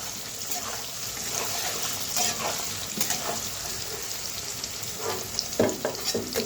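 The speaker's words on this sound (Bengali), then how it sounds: "পনিরগুলো হালকা হালকা ভেজে নিয়েছি, এখন উঠিয়ে নিব।" Paneer cubes frying in oil in a pan for a potol and potato paneer dish, a steady close sizzle with occasional scrapes and stirring knocks, no one talking.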